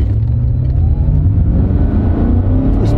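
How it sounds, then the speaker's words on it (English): A Mercedes V8 engine roars as it accelerates hard, a deep, loud, continuous rumble with rising revs and no talking. "Listen to that engine."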